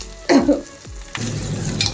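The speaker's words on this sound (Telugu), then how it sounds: "బాగా వేయించుకుందాం." Onions, garlic and curry leaves tossed into hot oil in a pan, a sharp close crackle and stirring scrapes at first, settling into a loud steady sizzle.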